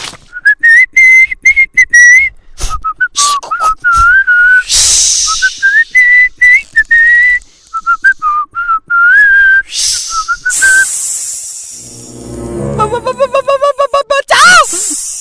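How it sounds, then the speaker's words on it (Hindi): A person whistles loudly and close up in a comedy classroom scene, a run of short, wavering tuneful phrases with gaps between them, then a burst of hissing and quick chirpy trills near the end. "सीटी बजाओ"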